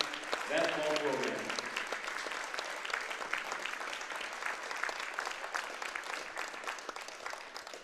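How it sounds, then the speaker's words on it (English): A basketball crowd in a gym keeps up a broad, continuous round of applause for the girls' team, with a voice briefly audible at the start over the clapping. "Let's give these ladies one more big round of applause"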